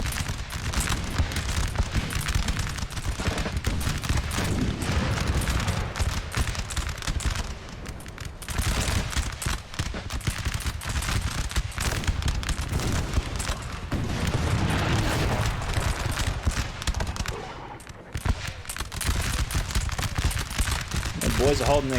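Dense battle din of massed musket volleys and booming artillery fire from Napoleon: Total War, a continuous loud roar of overlapping shots and blasts with a brief dip near the end, voices faintly mixed in.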